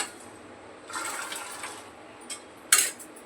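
Cooked red chickpeas are poured out of a pressure cooker into a container, giving a wet sloshing pour that swells and fades, followed by a brief sharp clatter of metal.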